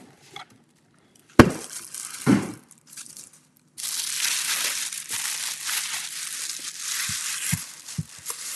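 Product packaging is handled, giving sharp crinkles and crunches in separate bursts before a longer stretch of steady rustling and crumpling, with a few soft knocks near the end.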